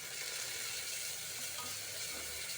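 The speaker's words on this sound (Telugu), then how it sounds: "ఆనియన్స్ బాగా కుక్ అయిన తర్వాత కొద్దిగా అల్లం వెల్లుల్లి పేస్ట్ను వేసి ఫ్రై చేయండి" Homemade ginger garlic paste frying with cooked onions in a pan, giving a steady, loud, close sizzle with no break throughout.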